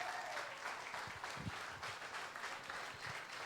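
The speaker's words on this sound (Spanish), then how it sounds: "Dale un aplauso al Señor." A church congregation claps together in a sustained round of applause, a dense rattling of many hands heard from within the room.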